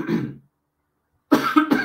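Two bursts of coughing separated by a short silence: one cough, then a quick cluster of two or three harsh coughs, close to the listener.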